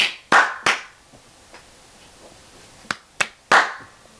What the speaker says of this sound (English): I need to give an NPC clap